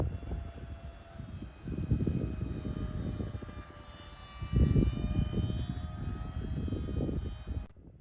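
RC model airplane with a high-lift wing flying slowly into a headwind of about 4 meters per second, its motor a steady mid-distance drone with broadband wind rumble that swells and fades as it passes.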